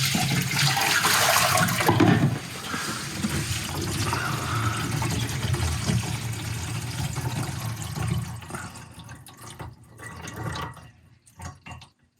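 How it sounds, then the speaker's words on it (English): Water from a pitcher pours into a newly installed bathroom sink and drains, a loud splashing rush that tapers into trickles and scattered drips as the flow stops. "I'm going to just pour this pitcher of water into here and see what happens"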